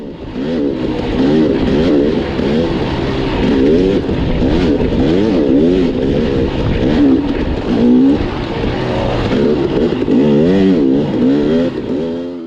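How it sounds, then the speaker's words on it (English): An enduro dirt bike races through sand whoops at the Grinding Stone 2023 hard enduro, its engine revving loudly and continuously, surging and dropping as the throttle rises and falls. "So I'm chasing Meg's through these nasty sand whoops"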